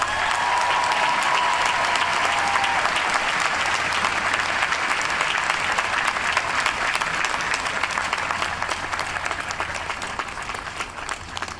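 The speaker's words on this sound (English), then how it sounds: "feel free to applaud yourselves" Graduates at a university commencement ceremony burst into sustained, dense applause from a large crowd, steady and loud for several seconds before gradually thinning toward the end.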